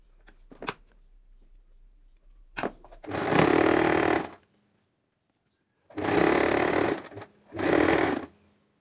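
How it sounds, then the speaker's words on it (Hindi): A sewing machine runs straight stitching on fabric for a hijab cap, in three loud, steady bursts of motor whir separated by short pauses, with a few light handling clicks before the first run. "अब हम इसके ऊपर सीधी सीधी सिलाई कर लेंगे"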